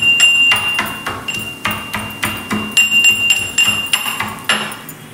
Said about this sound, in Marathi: आता आपण हे खलबत्त्यामध्ये छोट्या वाटून घेऊया